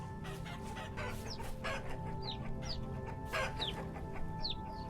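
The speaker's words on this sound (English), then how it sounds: "Chicken time. Oh man, it sounds like there's a lot of them." Several chickens cluck and squawk in the primitive-survival game Vintage Story, short repeated calls at moderate distance with no talking.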